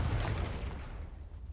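A Confringo blasting spell in Hogwarts Legacy goes off as a dull, rumbling burst that starts strong and fades out over a second and a half, heard on its own.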